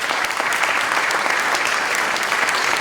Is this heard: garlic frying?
no